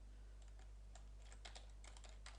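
Soft clicking keystrokes on a computer keyboard come in an irregular stream while code is entered, quiet and close over a low steady electrical hum, with no talking.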